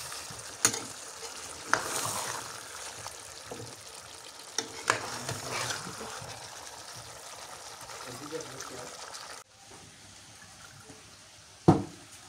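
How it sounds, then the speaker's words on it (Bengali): Beef and chunks of sweet pumpkin being sautéed in a pot, a steady close sizzle and frying hiss with occasional stirring scrapes and clatters, ending in a quieter stretch with one sharp knock. "মাংস আর মিষ্টি কুমড়া ভালো করে কষাই নিতেছি।"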